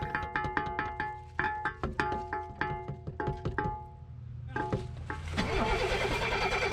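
A 1987 BMW 528e engine cranks over without its fuel pump running, a rapid, even chug of the starter for several seconds, then a pause and a second, rougher burst of cranking, close and alone.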